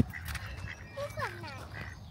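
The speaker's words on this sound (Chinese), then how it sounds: "这小鸭子追着我们要吃的，好多好多鸭子都过来了" Ducklings trailing a group of people on a warm summer day in New Zealand, their short, bright quacks popping up a few times over the clip amid steady background talk and low murmuring.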